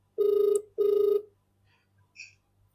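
A telephone bell rings in two short bursts, close and clear, followed by faint small clicks and a brief electronic chirp in a quiet room.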